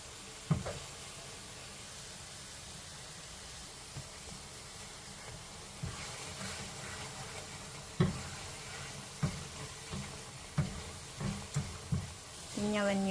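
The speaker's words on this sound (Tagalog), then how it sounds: "So, mekos-mekos lang hanggang sa matuyo-tuyo siya ng konti." Apple jam cooking down in a pan, stirred with occasional knocks of the spoon against the pan over a steady soft sizzle and bubbling, close up, with a voice speaking at times.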